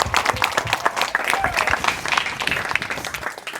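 A church congregation clapping loudly during a Christmas celebration service, dense continuous applause with mixed crowd noise throughout.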